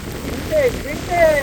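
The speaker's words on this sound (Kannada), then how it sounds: "ಮಳೆ ಹೊಡಿತಾ ಉಂಟು ಈಗ ನೋಡಿ" Monsoon rain pours steadily during a ride on two-stroke motorbikes to Bisle Ghat, with the bikes stopped facing a lake. A few thin whistling tones rise above the even wash of rain.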